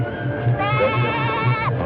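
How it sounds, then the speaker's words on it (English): A goat bleats in a wavering, drawn-out cry over a steady low pulsing background, close and clear, with no talk. "Take the goat."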